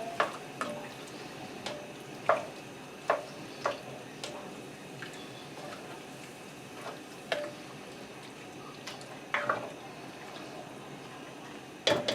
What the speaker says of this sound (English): Give this all a stir.